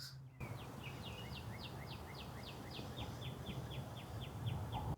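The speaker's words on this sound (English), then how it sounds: "And the birds, do you hear the birds?" Small birds chirp outdoors on a sunny, mild morning with a gentle breeze, a quick series of bright, evenly spaced tweets repeating for several seconds over faint background hum.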